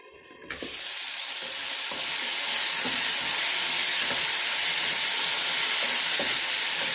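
A potato stir-fry sizzles and steams loudly in a pan, a steady hiss that swells after a sudden start, with faint periodic scrapes of stirring underneath and no voices.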